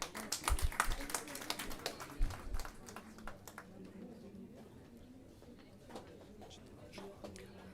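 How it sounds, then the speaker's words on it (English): A convocation audience claps for graduating awardees; a burst of scattered hand claps rings out at the start, then thins and fades out beneath a speaking voice. "Can we have a big round of applause for the awardees?"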